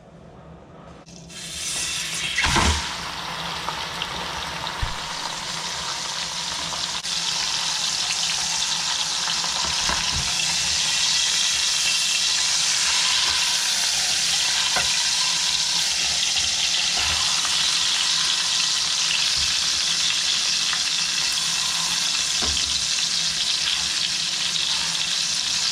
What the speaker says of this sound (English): we're going to brown this piece in bacon grease and in butter